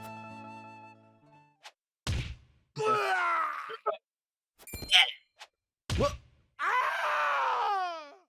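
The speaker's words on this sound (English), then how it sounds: "These are some good screams." Voiced pain cries and groans from Triangle Strategy characters, several separate drawn-out screams and grunts punctuated by sharp hit thwacks, with near-silent gaps between them.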